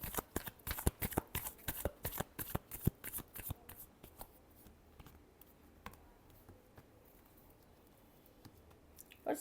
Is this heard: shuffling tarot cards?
yes